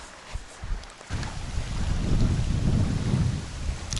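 Strong, cold crosswind gusting across open ground on a fishing outing, a loud continuous roar with microphone buffeting that swells and holds steady after a brief quieter start.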